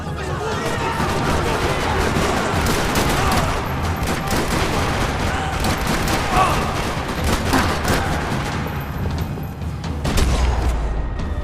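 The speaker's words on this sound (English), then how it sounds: "Another parking lot rattling with gunfire." Dense, rapid video game gunfire from Max Payne 3 crackles without pause in a parking lot, overlapping bursts of automatic fire and heavier booms filling the whole stretch, loud and close.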